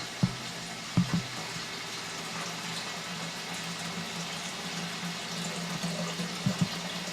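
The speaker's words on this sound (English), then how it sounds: "I'm going to start getting some more boiling water here" Boiling water is poured into a brewing vessel in a kitchen during homebrewing, a faint, steady trickle and gurgle running throughout, with a few soft clunks of a container.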